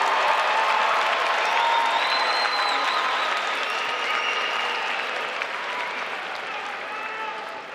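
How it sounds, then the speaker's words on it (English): A commencement crowd applauds graduates of a health and public safety division, a dense, steady wash of clapping that holds loud throughout and eases slightly toward the end. "Let's recognize the graduates of the Health and Public Safety Division with another round of applause."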